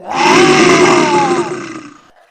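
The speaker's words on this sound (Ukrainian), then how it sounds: "Ведмідь каже, ось так він ричить." A single loud, drawn-out roar swells quickly, holds for over a second, then fades away into silence.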